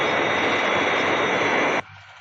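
Fireflash airliner on its glide path approaching the runway, a loud steady jet engine roar with a high whine holding for nearly two seconds before cutting abruptly to a faint residual hum.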